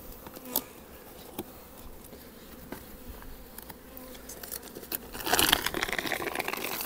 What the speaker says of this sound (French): quand on voit des abeilles comme ça dans le nourrisseur